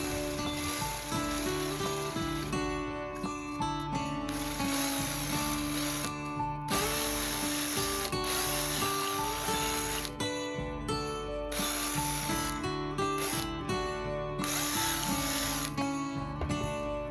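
A drill whirs and grinds through small wooden tree ornaments, enlarging holes in repeated bursts, with brief pauses between passes and a rattling, clicking mechanical texture.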